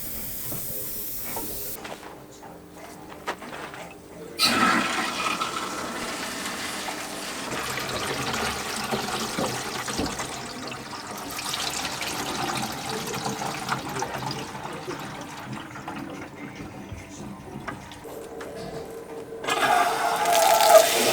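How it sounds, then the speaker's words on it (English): A well pump runs, pushing water with air through off-grid plumbing, a steady hissing rush lasting throughout and swelling louder near the start and end. "I hear the pump, I hear the water."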